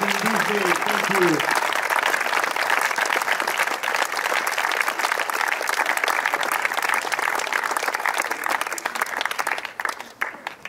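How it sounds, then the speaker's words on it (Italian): An audience at the Sardinia Open gives the players a long, loud, sustained round of applause. A voice speaks briefly at the start before the dense clapping takes over and then thins toward the end. "Un grande applauso a tutti loro, prego."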